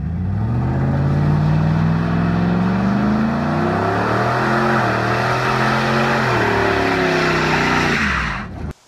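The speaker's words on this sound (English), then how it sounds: "I'll make sure to insert a clip to my cool burnout" A car doing a tire burnout: a loud, sustained engine roar that rises and shifts in pitch under a continuous harsh squeal of spinning tires, held for several seconds before cutting off abruptly.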